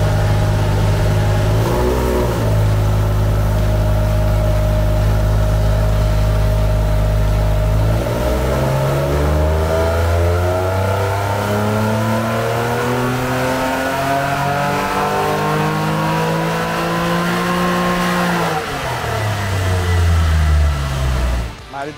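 Car engine revving hard during a power test, run on fuel then refilled with Evo 100 Plus premium petrol; loud sustained drone with rising and falling harmonic sweeps as revs climb and drop repeatedly, no talk.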